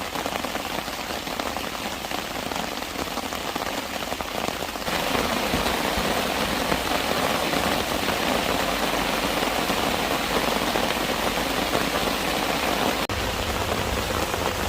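Heavy rain drums steadily on a tarp during a solo overnight stealth camp near an interstate on-ramp in a thunderstorm, a dense, continuous close patter that swells slightly partway through.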